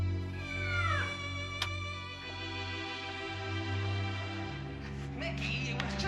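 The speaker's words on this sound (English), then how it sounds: "it was just a cat" A cat meows clearly a few times, fairly close, with harmonic wails over a steady low background hum.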